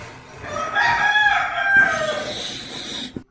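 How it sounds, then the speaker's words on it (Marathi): A rooster crows in the morning on a farm, one full cock-a-doodle-doo that rises, holds its strained middle and trails off, loud and close with no talk. "कोंबडा कसा आरोडते बघा"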